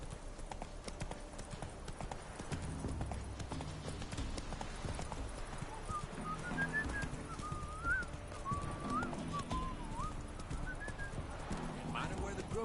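Roach, Geralt's horse in The Witcher video game, trotting with a steady clip-clop of hooves throughout, under a whistled melody and occasional birdsong, with someone talking over it.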